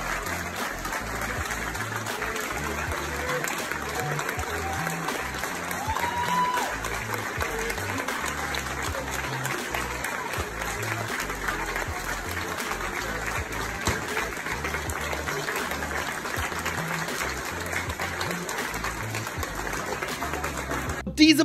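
A crowd at an Australian airport claps steadily and enthusiastically for arriving American firefighters, a dense, continuous patter of applause that keeps an even level from start to finish.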